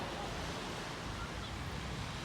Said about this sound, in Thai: ก็มาที่ทะเลโบมัสนะคะ